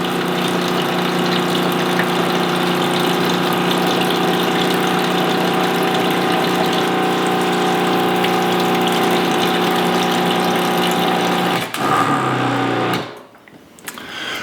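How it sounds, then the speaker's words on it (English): A Joolca Hot Tap Nomad portable water heater's pump runs with water flowing, a steady loud whirring hum with a faint mechanical buzz. It holds constant, then cuts off near the end, leaving a short quiet tail. "go ahead and shut that pump off"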